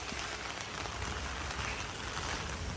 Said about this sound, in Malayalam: മഴ അങ്ങനെ പെയ്തുകൊണ്ടിരിക്കുന്നുണ്ട് ഗംഭീരമായിട്ട് പെയ്തുകൊണ്ടിരിക്കുന്നുണ്ട്